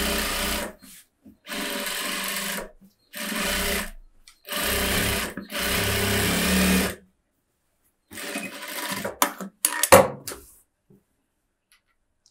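A sewing machine stitches along the edge of chudithar lining cloth in several bursts of steady whirring, each a second or two long, separated by short pauses, ending with a few uneven stops and starts.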